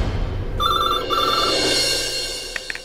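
A telephone rings in a Hindi TV drama scene, an electronic trilling tone repeating in short, clear bursts at steady volume with no voices over it.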